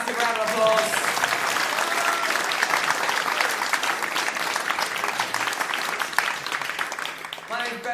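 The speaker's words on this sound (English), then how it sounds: "Give him a massive round of applause." A comedy club audience at a live stand-up show bursts into loud, sustained applause with cheering voices mixed in, holding steady for the whole stretch before easing slightly at the end.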